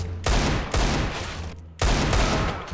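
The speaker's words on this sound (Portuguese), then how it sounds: "Para de atirar o laranja. Para de atirar." Dense bursts of automatic gunfire from Counter-Strike 1.6 on the de_inferno map, loud and nearly continuous, broken by two short gaps before the firing resumes.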